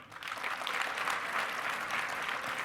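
An audience at a sports analytics conference session claps together to vote on a question, producing a steady, even wash of applause from many hands that starts abruptly and holds.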